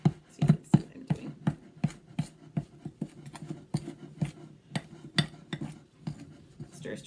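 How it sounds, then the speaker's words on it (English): Play dough mixture of flour and boiling water stirred in a bowl, a regular series of clicking, knocking strokes of a utensil against the container, close and clear. "just keep on stirring the best that you can"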